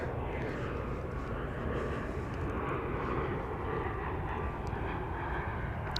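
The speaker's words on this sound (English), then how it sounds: "here is the American Dreamliner about to embark on the long journey to Brisbane" An American Airlines Boeing Dreamliner jet at DFW Airport at night produces a continuous broad engine roar, steady and moderately distant, with no break across the stretch.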